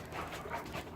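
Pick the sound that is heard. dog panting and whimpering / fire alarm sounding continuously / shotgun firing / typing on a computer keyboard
dog panting and whimpering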